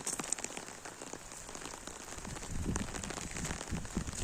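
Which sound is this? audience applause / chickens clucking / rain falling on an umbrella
rain falling on an umbrella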